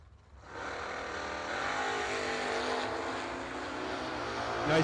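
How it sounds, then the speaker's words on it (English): Drag race cars launch side by side down the lanes at a Christmas bash event, a loud sustained engine roar rising quickly from near silence and holding steady, with no talk. "Nice wheelie by Bob Valenti in the lane."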